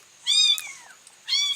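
A kitten meows twice in the background, high and clear, with a short quiet gap between the two cries.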